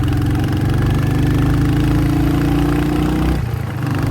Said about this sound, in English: The exhaust note is very good.